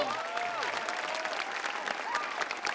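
A television studio audience bursts into loud, sustained applause for a guest at an audition show, with voices and shouts rising over the clapping.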